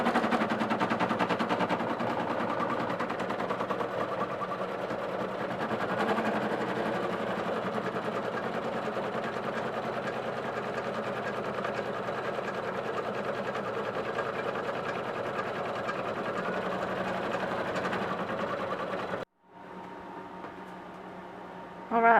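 An embroidery machine stitches a front zip bag clutch held in its hoop, sewing two close parallel lines. The loud, steady, rapid mechanical chatter runs continuously for most of the clip, then stops abruptly near the end, with a brief clunk after.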